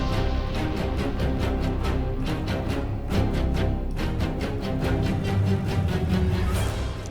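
Dark, dense orchestral game music plays continuously, driven by a steady pulse of regular beats that never lets up.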